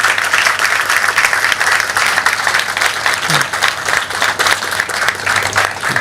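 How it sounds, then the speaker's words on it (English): A crowd at a transit launch event gives a congresswoman a sustained round of applause, many hands clapping steadily and loudly throughout with no break. "let's give Congresswoman Terry Sewell a round of applause"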